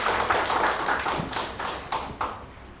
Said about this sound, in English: So let's all give him a big round of applause and invite him to the stage